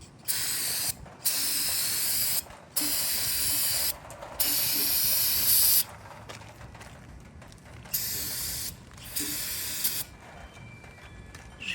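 Cleaner is sprayed onto a 383 engine block in repeated bursts of bright hissing, each lasting about one to two seconds with short pauses between, close up and fairly loud.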